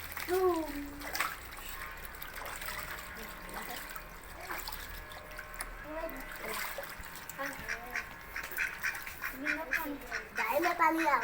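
Ducks swimming on water, with repeated nasal quacks scattered through and light splashing and trickling water underneath, close by, while people talk in the background.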